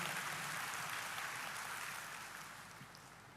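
A church congregation breaks into a sustained round of applause, a dense clapping wash that fades slightly toward the end, heard at a moderate distance.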